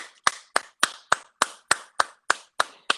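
A single person claps ten times in a steady, even rhythm, sharp and close with no other sound between the claps.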